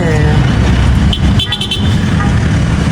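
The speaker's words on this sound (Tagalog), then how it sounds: "Nag-jeep kami." A jeepney ride through city traffic, with a steady engine rumble and road noise and a short burst of horn toots near the middle, while people talk throughout.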